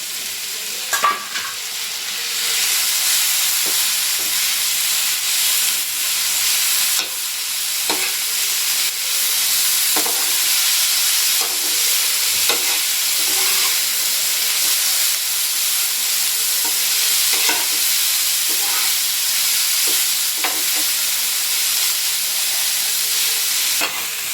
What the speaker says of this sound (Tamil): லாஸ்ட்டாக தான் கோஸை போட்டு வதக்கணும்